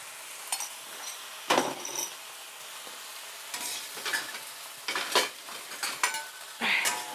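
Singapore noodles with curry sauce and chicken are tossed in a hot wok with a spatula, giving irregular metallic scrapes and clanks over a soft continuous sizzle, close and moderately loud, with no speech.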